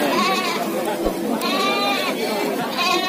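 Goats at a farm pen bleating in a few wavering, nasal calls, close by, with a person talking over them.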